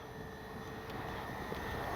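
An Avios Twin Otter RC model utility plane flies in strong wind, its faint, steady propeller and motor drone mixed with broadband wind rush on the microphone, continuous and fairly distant, with no voices.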